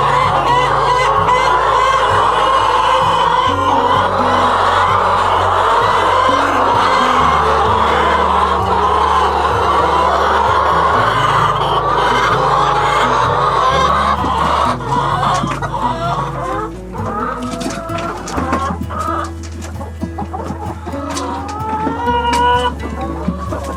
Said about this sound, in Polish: całe 220 kur z tego kurnika właśnie wychodzi na wybieg